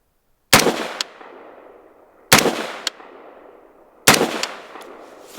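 Three sharp, loud unsuppressed rifle shots from a 16-inch AR-style rifle fitted with a bufferless bolt carrier group ring out at a range, evenly spaced about two seconds apart, each followed by a short metallic action clack and a decaying echo.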